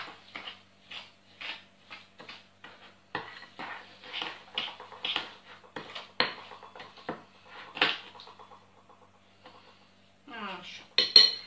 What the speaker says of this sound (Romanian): Adăugăm și oul. Și amestecăm.